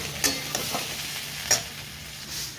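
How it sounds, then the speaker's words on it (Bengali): New potatoes frying in a pan with black cumin (kalo jeera), a quiet steady sizzle broken by a few sharp stirring clicks and scrapes, no talking. "আর এখানে আলু ভাজা হচ্ছে।"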